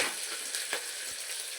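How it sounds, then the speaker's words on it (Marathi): Chopped onion and bell pepper fry in hot oil with cumin, giving a continuous, close, bright sizzle and a faint stirring scrape. "आता आपण हे कांदा आणि ढोबळी मिरची फ्राय करून घेऊया"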